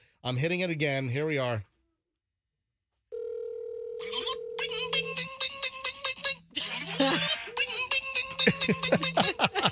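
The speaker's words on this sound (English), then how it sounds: "it's my personalized ringtone when I call him" A personalized ringtone plays from a phone being called from a cell, a melodic electronic tune with clicks and tones that follows a man's speech and a silent gap, then runs loud and steady to the end.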